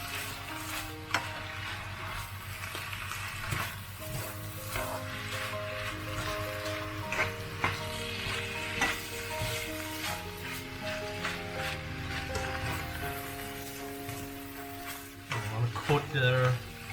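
Tuna egg fried rice tossed over high heat, a continuous sizzle with repeated scraping stirs of rice and canned tuna in the pan, layered under a steady musical background and ending in a few louder clatters.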